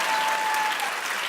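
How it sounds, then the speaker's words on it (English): Studio audience applause on a talk show, a dense, steady burst of clapping filling the room throughout, loud and close. "Y'all okay. better clap for Nick Cannon."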